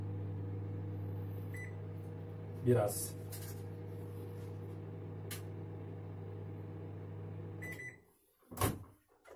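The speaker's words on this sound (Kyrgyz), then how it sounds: "Эми жууган майды бир микроволновкага салып эритип алам." A microwave oven hums steadily while melting butter, a constant low electrical drone interrupted by a few clicks and a beep before stopping near the end; a voice speaks briefly.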